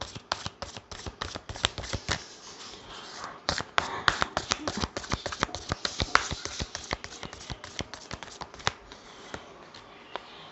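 A deck of tarot cards is shuffled close up in a long run of rapid, crisp riffling slaps and flicks, with a brief pause partway through and no talking.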